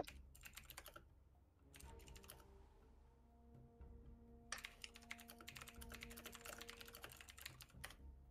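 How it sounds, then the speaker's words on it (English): Fast typing on a computer keyboard comes in dense, rapid bursts of clicking, separated by brief pauses, over a low steady hum, with no talk. "Jeez, fast typing."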